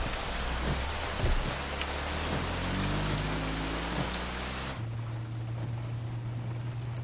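Steady heavy rain falling in a movie scene, a dense hiss broken by faint low rumbles, cutting off abruptly near the end to a quieter scene with a low steady hum.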